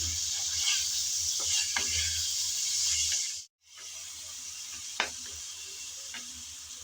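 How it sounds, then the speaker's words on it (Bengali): Chicken and tomato stirred and fried together in a pan hiss softly, with scattered spatula scrapes and ticks and a brief break in the middle. "টমেটো দিয়ে আবারও নেড়ে চেড়ে ভালোভাবে চিকেনটাকে কষিয়ে নেব"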